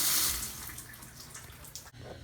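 Steady hissing spray of water from a leaking shower head, loud and close, running continuously with a slight splashing texture.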